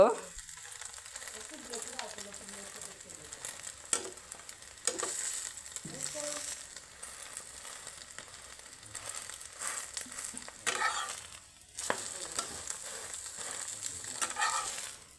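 An egg fries in a pan over a gas flame, giving a soft, steady sizzle with occasional stirring and scraping, while a voice talks intermittently above it.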